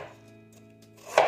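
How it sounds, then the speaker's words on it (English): A knife slices through a quartered cabbage, giving one crisp, close cut near the end after a quiet stretch with a faint steady hum. "I cut it into quarters and then into slices like this"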